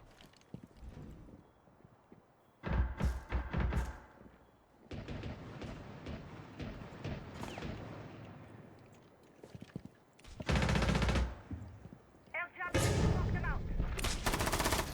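Gunfire in the video game Rainbow Six Siege, bursts of loud rapid shots and clattering impacts in several clusters, separated by quieter stretches of game noise.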